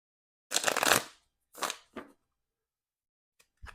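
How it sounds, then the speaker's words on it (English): A deck of playing cards is shuffled at close range in a few quick riffles: one long ruffling burst, then two shorter ones, and a soft tap at the end. "So I'm going to give this a few shuffles."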